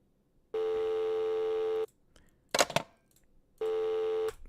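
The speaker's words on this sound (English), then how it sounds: "I could just hear it while that thing's going in the right ear, like a dial tone" A steady electronic tone like a phone dial tone plays twice with a gap between, interrupted by a short burst of rattling noise.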